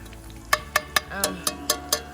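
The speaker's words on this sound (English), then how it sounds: "I'm frying the bologna" Sharp rhythmic clinks or taps of a utensil against a pan, about seven evenly spaced hits, with a soft sizzle of bologna frying and a brief warble underneath.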